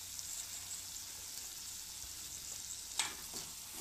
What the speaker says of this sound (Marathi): जरा असं तेल सुटेपर्यंत असा छान परतवून घेऊ